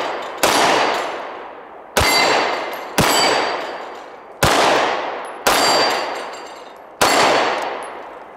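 Six loud, sharp 9mm pistol shots from an HK VP9 SK fired slowly at steel plates on a range, each crack followed by a ringing decay, spaced about a second or more apart with no talking.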